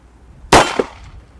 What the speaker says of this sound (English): let's take another firing with the Bond Arms Ranger from 10 feet with the 410 triple-aught buck Federal round